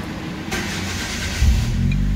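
Hyundai Apega car engine idling smoothly and steadily after a MAP sensor replacement and ECU reset, with a brief low surge partway through, heard close and alone.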